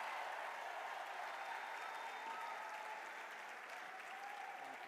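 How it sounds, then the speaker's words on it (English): Audience applause fills a tech summit hall after a governor's address, steady and sustained across the whole stretch with dense, even clapping and a faint crowd murmur beneath. "Keep clapping, keep clapping, keep clapping."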